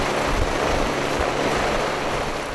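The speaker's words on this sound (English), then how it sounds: "the pilot, he will be arriving by helicopter." A helicopter carrying the harbour pilot arrives at one of the world's biggest container ships out at sea, its engine and rotor making a steady, loud whirring drone with a low pulsing thump underneath.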